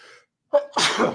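A single sneeze indoors during a spoken podcast, a short sharp intake followed by a loud explosive burst, close to the microphone and alone.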